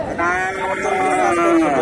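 A single sustained moo from a Friesian bull at a cattle market, loud and close, stretching nearly two seconds with a steady drawn-out tone.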